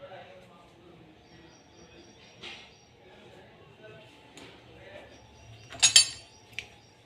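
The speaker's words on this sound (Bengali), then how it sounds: "এইদিকে কতগুলো বাসন আছে, এগুলো ধুতে হবে। বাসনগুলো ধোবো।" Dishes and utensils being washed, with soft sporadic clinks and scrapes over quiet background, building to a sharper cluster of metallic clatter near the end.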